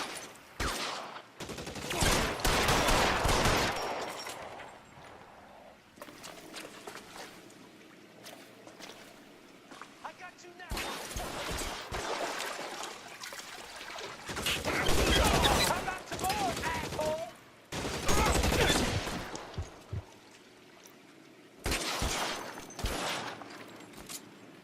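Gunfire in L.A. Noire comes in several loud volleys separated by quieter stretches, with bursts of rapid shots and a lingering watery background ambience between them.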